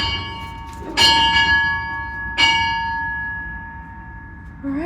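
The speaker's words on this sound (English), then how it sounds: "Let's ring that bell." A bell rung by hand at a Harvest Host stay, with two loud clear strikes about a second and a half apart, each leaving a long ringing tone that slowly fades. Faint movement noise sits underneath.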